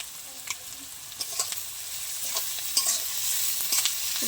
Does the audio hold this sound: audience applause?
no